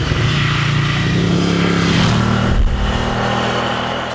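Ducati Scrambler Cafe Racer motorcycle engine drones loudly and steadily while riding, its pitch shifting slightly as it runs close and continuous.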